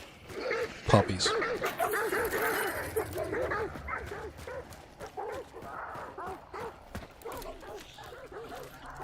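Dogs in the video game Hunt: Showdown bark and yip in repeated bursts, with a few whimpers, while a player talks over them.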